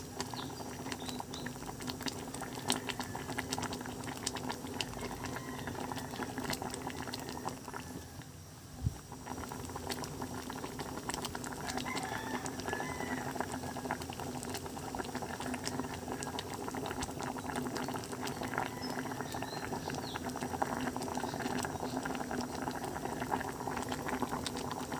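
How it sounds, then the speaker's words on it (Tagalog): Steady rolling boil of water in a cooking pot of mung bean stew, a dense continuous bubbling and churning that holds at an even level throughout, close up. "Kumukulo na talaga."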